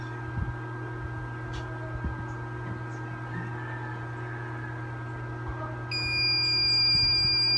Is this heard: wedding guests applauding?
no